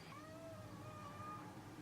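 A kitten meows once in a faint, drawn-out, wavering cry over a quiet background hiss.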